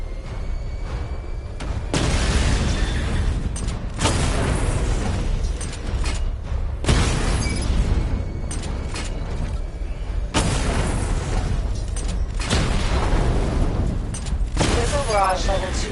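A missile barrage in the Batman Arkham Knight video game lets off loud booming explosions in repeated bursts, separated by brief quieter gaps, over a constant mechanical rumble.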